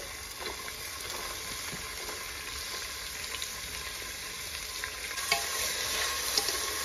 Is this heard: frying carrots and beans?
yes